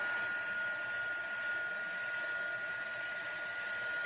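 A heat tool melts embossing powder on a stamped card for an emboss resist technique, a steady close-up blowing whir that runs unbroken with no talk.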